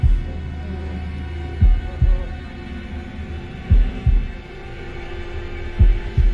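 Heartbeat in the Man of Medan video game, a deep, loud double thump repeating at a slow, steady pace over a low background hum.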